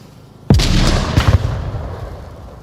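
A grenade detonates in the VR shooter Onward: one sudden heavy boom with a broad burst, then a rumbling tail and a few crackling pops as it fades over about two seconds, with no talk.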